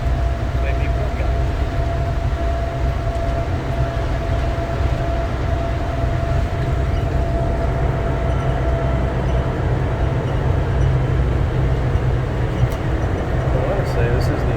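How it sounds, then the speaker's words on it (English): The Las Vegas airport train runs with a steady low rumble and a faint high whine under it, a continuous rolling drone heard from inside throughout. "I want to say this is the only airport train in the world to go from above ground to underground."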